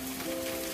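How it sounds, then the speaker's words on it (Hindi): Rain falling steadily outside a house, a soft continuous hiss of drops with a faint steady hum underneath, no voices. "बाहर बारिश बढ़ती जा रही थी और बारिश घर के अंदर तक आ रही थी।"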